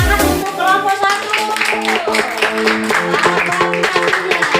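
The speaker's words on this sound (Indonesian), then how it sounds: "Tepuk tangan untuk kelompok 1." A school class in a Christian religion lesson applauds the first group, with brisk, dense clapping mixed with voices and tonal sounds throughout.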